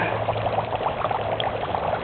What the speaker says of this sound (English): Those are carbon dioxide bubbles.